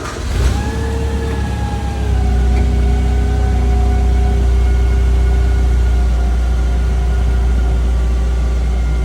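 A forklift engine turns over and catches, then settles into a steady, loud, close idle with a low rumble and a faint whine.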